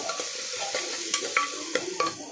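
Chopped onion, one large onion, stirred in hot oil in a pan for a Gujarati-style potato curry, with a steady soft sizzle and several sharp spoon scrapes and clinks against the pan.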